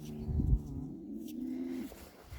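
Cattle lowing on a livestock farm, a sustained nearby moo lasting over a second with a lower grunt before it, clear against a quiet barn background.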